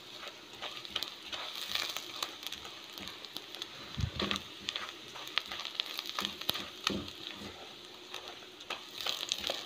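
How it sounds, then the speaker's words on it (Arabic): Butter bubbles and sizzles in a pan while molokhia is being made, a steady faint crackle with scattered small pops and spits throughout, heard close with no talking. "شوفوا الزبدة ما شاء الله عمالة تفور"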